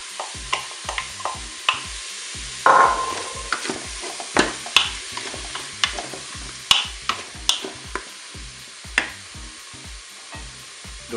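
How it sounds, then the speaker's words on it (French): Onions sizzle in hot oil in a Cookeo cooker while being stirred. Regular scraping knocks and clicks sound over a soft frying hiss, close and fairly quiet, with no talking. "l'huile est assez chaude. Je vais maintenant rajouter les oignons."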